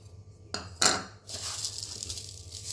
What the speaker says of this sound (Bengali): প্রথমে আমি চিড়েটাকে একটু ধুয়ে নেব।